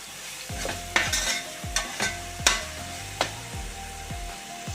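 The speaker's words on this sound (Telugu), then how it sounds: "అడుగంటకుండా మసాలా ఇక బాగా కలుపుకోవాలి" Masala stirred in a pan for Andhra-style fish curry, with a steady sizzle under repeated scraping spoon strokes and light metallic knocks against the pan, close and fairly quiet, no voices.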